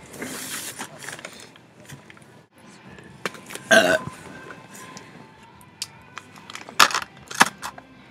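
A girl burps loudly and close up several times, with softer rustling and small clinks between the belches.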